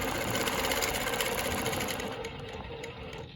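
A longarm quilting machine stitches a Baptist fan pattern, giving a steady fast mechanical whir that eases slightly toward the end, with no voices.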